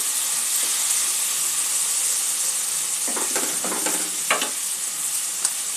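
Green peas fry in oil with spices for a Bengali omelette curry, a continuous hissing sizzle close by, with a few spatula scrapes and taps midway.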